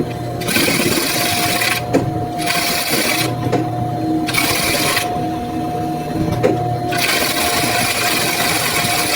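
An electric sewing machine stitches a lined churidar in loud, steady bursts of rapid whirring, broken by short pauses as the fabric is repositioned, with no talking.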